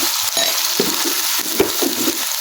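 Fish masala with tomato paste sizzles in a hot pan, a steady bright crackle with a few stirring scrapes and bursts of spatter close by.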